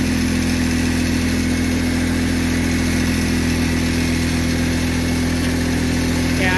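A Massey Ferguson GC2310 compact tractor with hydrostatic drive runs steadily in four-wheel drive as it moves, its diesel engine a loud, continuous, unchanging drone close by with no talk.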